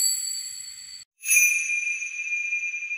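Bright, ringing bell tones added as sound effects in music production: a sustained chime cuts off briefly, then a fresh bell strike rings out and decays slowly, loud and clear with no voices.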